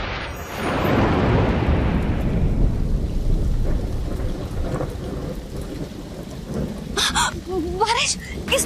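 A thunderclap rolls in and rumbles over heavy, steady rain, loud and close, with the downpour continuing after it as people talk in the final seconds.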